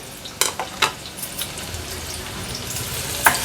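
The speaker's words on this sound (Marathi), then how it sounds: "ह्याच्यामध्ये आपण हा बारीक चिरलेला एक मीडियम साईजचा कांदा आणि दोन हिरव्या मिरच्या फोडणीला घालूया" Chopped onion and green chillies hit hot oil for tempering, a steady close sizzle with a few sharp scrapes and clinks of a spoon against the pan.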